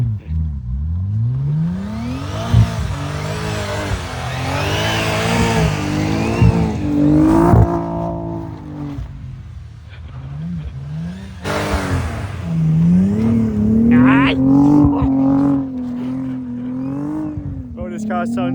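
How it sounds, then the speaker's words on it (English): Audi RS4 B5 engine revving on snow, a rising and falling engine note with whirring and surging across the stretch, loud and close, with people talking over parts of it. "Oh, this car sounds so similar to mine."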